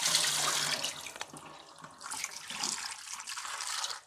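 Tap water runs steadily over lemons being rinsed clean in a kitchen sink, a close splashing hiss that thins briefly in the middle and then swells again before cutting off.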